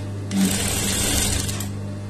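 Sewing machine stitching a quarter-inch seam on fabric during a tailoring lesson on neck design, a steady close motor hum running for about two seconds with no talk.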